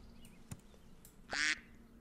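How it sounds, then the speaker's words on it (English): A single short duck quack from the Super Auto Pets video game, preceded by a faint click, sounding quiet and alone against a low background hum. "I'm going to buy the duck."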